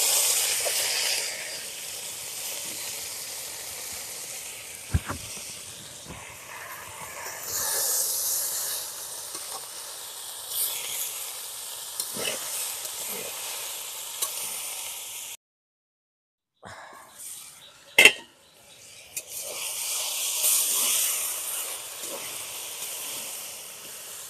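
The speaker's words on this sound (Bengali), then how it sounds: "ফোড়নটা লাল হয়ে এসছে। এবারে আমি শাকটা তুলে দিচ্ছি।" Mechi greens dropped into a reddened hot-oil tempering: a loud hiss and sizzle bursts up and churns on with clatters and bumps, briefly falling silent midway before the sizzling resumes; no talking.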